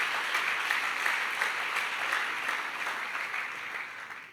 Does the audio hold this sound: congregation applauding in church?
yes